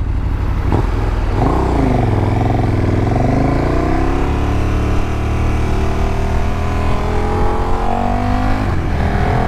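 A 2018 KTM Super Duke GT motorcycle engine accelerates hard and close on a dual carriageway, its pitch climbing, dipping with gear changes and rising again, a steady loud roar throughout.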